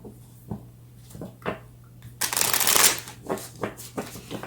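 A deck of tarot cards being shuffled up close, with a run of soft riffling flutters building into a dense, louder riffle midway, then a few lighter taps and shuffles.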